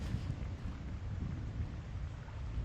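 A thunderstorm in a Thief 2 fan mission, with a dense low rumble and steady rain-like wash running throughout, fairly constant with no distinct crack.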